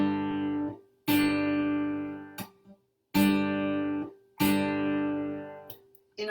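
Guitar chords are plucked and then cut off sharply by muted strings, four ringing strums with short damped ticks between them in a clear, close stop-start rhythm and no voices.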